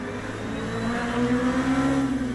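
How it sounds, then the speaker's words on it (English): A hypercar in the racing game Le Mans Ultimate roars past with a sustained engine tone that climbs in pitch and loudness as it draws close, over a constant drone from nearby cars. "Hypercar clipping us as it goes past."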